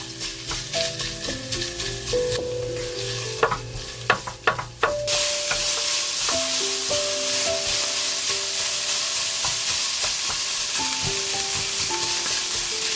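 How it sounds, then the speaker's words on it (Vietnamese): Loud sizzling and hissing of minced pork stir-frying in a hot pan, with a spoon scraping and tapping to break up the meat early on, then a steady crackling sizzle. "mình cho thịt vào xào. Dùng muỗng tán cho thịt tơi ra nha các bạn"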